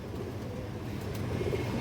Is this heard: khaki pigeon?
yes